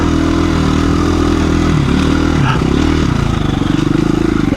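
KTM 350 EXC-F dirt bike ridden off-road on a high desert trail, its engine loud and close with a constant droning roar that rises and falls with the throttle and clatters over rough ground.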